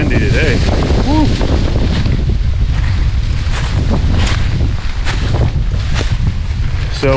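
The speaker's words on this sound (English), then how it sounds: "It's windy today." Strong wind blows outdoors in a wooded spot where trees have been hinge-cut, roaring and buffeting the microphone in a loud, constant rumble with gusty surges throughout.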